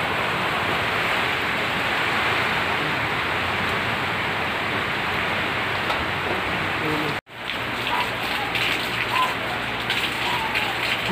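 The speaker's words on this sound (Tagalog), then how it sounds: "Umuulan." Steady heavy rain hisses continuously, close and loud, briefly cutting out midway before resuming slightly quieter.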